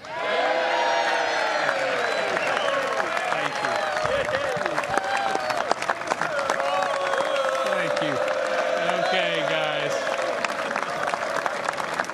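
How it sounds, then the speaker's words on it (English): Applause with some cheering and whoops from a crowd welcoming a speaker at a 2017 political event, carrying on steadily beneath a voice speaking briefly over it. "We're getting a little applause"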